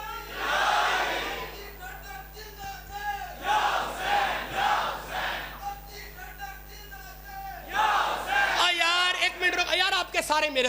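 A crowd at a Muharram religious gathering chants slogans in loud, rhythmic waves, with repeated surges of many voices and a single voice leading between them, ending in continuous loud chanting.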